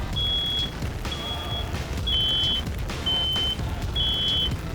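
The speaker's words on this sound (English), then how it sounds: "So we got both smoke alarms are going off." Two dorm-room smoke alarms sound during a fire test, shrill beeps repeating in a steady pulsing pattern, five long tones over a low rumbling background, loud and insistent.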